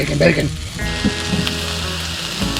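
Diced potatoes and fries hiss and crackle on a hot griddle in a steady, close sizzle, with a brief murmur of a voice near the start.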